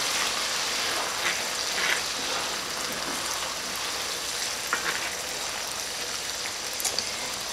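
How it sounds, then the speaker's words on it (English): A bourbon bacon onion jam bubbles in a pan while being stirred constantly, making a steady, even hiss of bubbling and sputtering with soft occasional stirring sounds. "We're going to let that cook and bubble for about 30 seconds. Stirring constantly."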